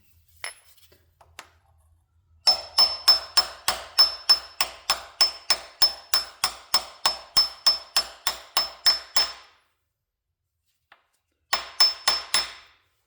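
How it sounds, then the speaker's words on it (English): A hammer drives a socket onto a John Deere load control shaft during repair: about twenty evenly spaced, ringing metallic taps close up, a pause, then a few more strikes. "Now what I am going to do is use a socket and tap that in."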